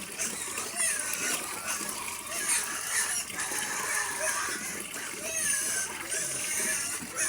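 Water splashes and pours into pig feed, a continuous wet splattering with a voice and other chatter faint in the background.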